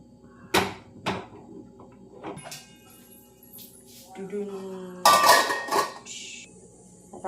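A spoon stirring egg masala curry in a cooking pan gives scattered clinks and knocks, then a louder stretch of scraping against the metal, with a few quiet kitchen sounds between.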